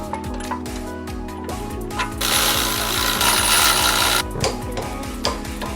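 Hand tools work on the brake caliper bracket bolts of a 2015–2020 Ford F150, with a steady run of rapid ratcheting clicks and mechanical rattling, loud and close, building to a denser noisy burst midway before settling back to clicking.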